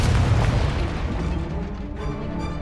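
Fiery Confringo spell blasts in the Hogwarts Legacy video game, a loud, continuous booming explosion burst with heavy low rumble that carries through the whole stretch and tails off slightly at the end.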